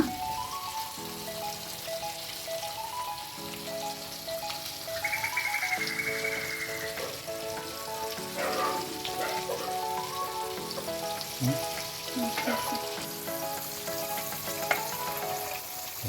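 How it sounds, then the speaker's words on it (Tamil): Masala-coated fish shallow-fries in a pan over medium-low flame, a steady crackling sizzle throughout with occasional louder spits and pops; background music plays underneath. "ஃபிஷ் வந்து மீடியம் டு லோ ஃப்ளேமில் 2 பக்கமும் திருப்பி போட்டு நல்லா ஃப்ரை பண்ணி எடுத்துக்கோங்க."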